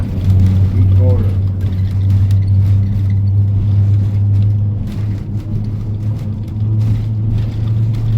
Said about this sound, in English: It's a diesel genset.